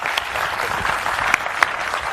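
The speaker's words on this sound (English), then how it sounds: "Ladies and gentlemen, please, a warm round of applause for Valentino Rossi" An audience applauds Valentino Rossi at the 2016 Movistar Yamaha YZR-M1 unveiling, a dense, steady wash of clapping held at full strength for a couple of seconds with a few sharper claps standing out.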